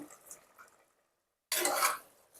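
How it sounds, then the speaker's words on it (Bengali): Mutton curry with potatoes is stirred in a pot, heard as a brief, close scraping and rubbing of a spoon against the pot after a quiet pause, preceded by softer kitchen clinks. "আবারও ভালো করে নাড়িয়ে নেব।"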